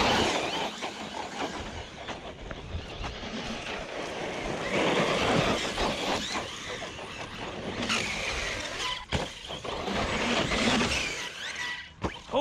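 A Team Corally Kagama 6S RC truck with M2C upgrades runs on its first outing, a steady broadband motor whine and rushing tire noise that swells and dips with throttle over about twelve seconds, with no talk.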